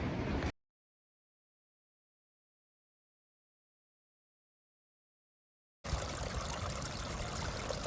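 Steady, broadband rush of flowing water, loud and close, after a brief burst at the start and a long stretch of silence.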